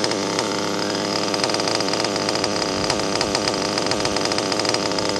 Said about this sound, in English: Idle's kind of high, but it's still not warmed up yet.